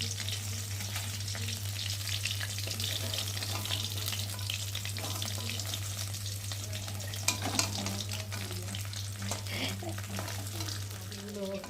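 Pieces of rohu fish frying in hot oil, a close and steady sizzle that runs the whole time, with a low constant hum underneath and a couple of small knocks near the end.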